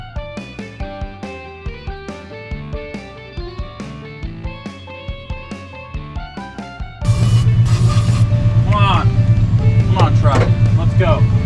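A 1973 Toyota Land Cruiser FJ55, fitted with a new starter, coil, points, condenser and a different carburetor, cranks with a regular pulsing rhythm, then catches and roars into a loud, steady idle at close range.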